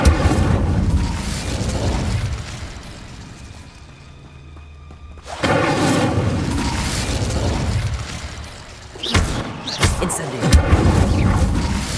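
Incendio fire spell cast in the video game Hogwarts Legacy: a loud whooshing burst of flame that cuts off, followed after a brief quiet by more rumbling bursts and thuds of magical fire and impacts.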